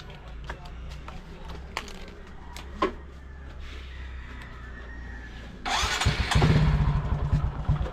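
Small motorcycle starts up after a few scattered knocks and clicks, then its engine runs with a loud, rapid sputtering putter, close by.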